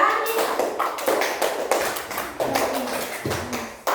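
Classroom hand-clapping in a counted rhythm exercise: clusters of sharp, loud claps arrive in quick groups with short gaps between them, close by and mostly alone.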